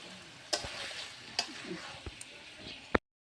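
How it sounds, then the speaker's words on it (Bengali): Duck meat is stirred with spices in a pan, with a soft sizzle under scattered spoon scrapes and clacks against the pan, quiet and close. "মাংসটা আমি ভালোভাবে সব মশলার সাথে মিশিয়ে নিচ্ছি।"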